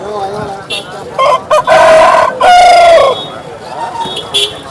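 A rooster at a poultry market in Vijayawada gives a loud, close crow in two drawn-out phrases, set against faint market background noise.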